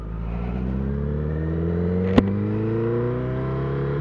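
Motorcycle engine picked up by a helmet-mounted microphone while riding, with steady close revving whose pitch climbs smoothly as it accelerates, and one sharp click partway through.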